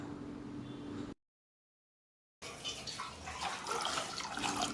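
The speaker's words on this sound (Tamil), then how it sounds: "எக்ஸ்ட்ரா 1 கப் தண்ணி சேர்த்துக்கலாம்." Water poured from a cup into a pressure pan of soaked mochai (field beans), a steady splashing pour after a brief gap of silence, close and fairly loud.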